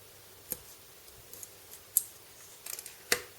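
Scissors snip through narrow ageing tape in a few sharp, close, isolated cuts, with light ticks and small handling clicks between them in an otherwise quiet room.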